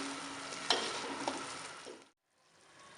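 Onions frying in oil until golden brown for an aloo matar gravy, a soft, steady sizzle close by with a couple of light stirring knocks, cutting out briefly near the end, with no talking.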